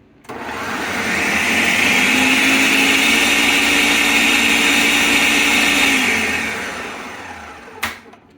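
A blender purees potatoes for crab bisque, a loud steady whirring grind that swells up, holds for several seconds and winds down, then ends with a brief clunk.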